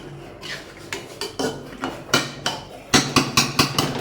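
A cooking pot is covered with its lid on the stove: a run of loud metallic clanks and rattles, sparse at first, then quicker and sharper near the end, with no talking.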